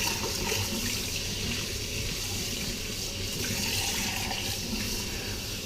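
Water from a kitchen tap runs steadily into a sink as something is rinsed under it, a continuous close splashing hiss with no talk, made while cooking orange curd.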